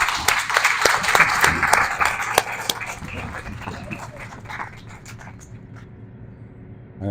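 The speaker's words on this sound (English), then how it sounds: "let's have an applause for everyone in the room" Applause from a donor appreciation night crowd in a room, dense clapping filling the space from the start, gradually thinning and tapering off toward the end.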